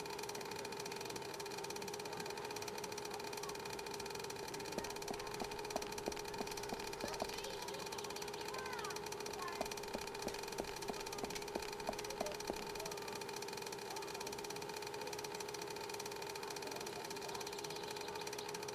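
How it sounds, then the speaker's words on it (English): An engine rumbles steadily at low volume in the Secret Files 2 video game, a continuous mechanical drone with a faint rattling flutter in the middle stretch. "The crocodile seems to be mistaking the engine's vibrations for a rival."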